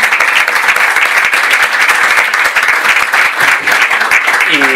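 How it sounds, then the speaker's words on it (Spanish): An audience at a live debate event bursts into sustained applause, a dense, loud wash of many hands clapping continuously with no pauses, and a voice briefly heard near the end. "Un aplauso para Guillem."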